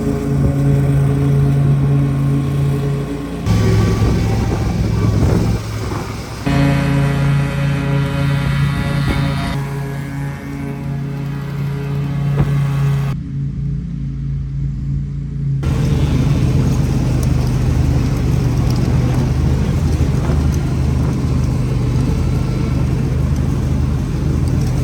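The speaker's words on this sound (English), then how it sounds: "Ash is just getting the mowers off the trailer now. I'm strimming up the first bits and we're cracking on." Strimmer and ride-on mowers running on a grounds maintenance job site, a loud continuous engine drone with steady low hum and shifting pitch, broken by brief dips and a short quieter gap.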